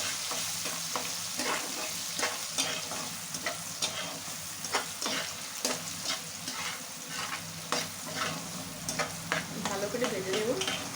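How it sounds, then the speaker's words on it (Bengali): Potatoes dusted with a little turmeric sizzle steadily in hot oil while a utensil stirs and scrapes the pan in repeated strokes, close and loud. "এখন আমি এই তেলের মধ্যে আলুগুলোকে ভেজে নেব।"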